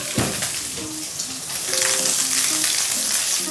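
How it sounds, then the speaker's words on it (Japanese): Cut bacon frying in a pan for eggplant arrabbiata pasta, a steady close hiss of sizzling fat, with brief tonal clinks and scrapes from utensils over it. "フライパンで炒めていきましょう。"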